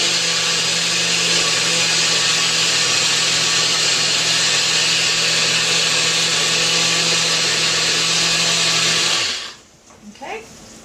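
A NutriBullet personal blender whirs loudly and continuously for several seconds blending pancake batter, then cuts off abruptly, leaving a brief clatter and quiet.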